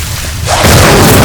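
Incendio fire spell cast in the video game Hogwarts Legacy, a loud whooshing burst of flame that swells up out of a low rumble and keeps roaring at full strength.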